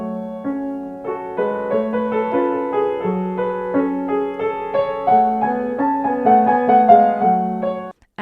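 Piano playing Bach with too much sustain pedal, the notes blurring and ringing into one another in a smeared, continuous wash of close, moderately loud melody and bass lines.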